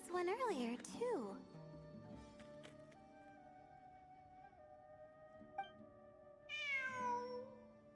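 A cat in Genshin Impact meows twice in quick succession at the start, clear and close, followed by quieter in-game music and effects, then a higher, drawn-out cry near the end.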